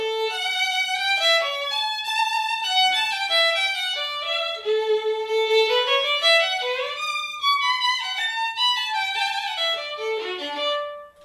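A solo violin plays a smooth, connected melody with notes flowing into each other, close and clear, with no speech.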